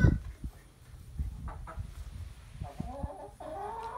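Chickens cluck close by inside a school bus converted into a coop and animal shelter, with irregular clucks and short calls in a quiet space and no talking.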